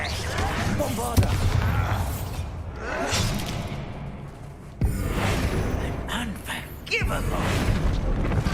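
Bombarda explosion spells in Hogwarts Legacy combat, with sharp blasts and whooshes breaking out amid a busy fight against goblin loyalists while a character's voice talks over the action.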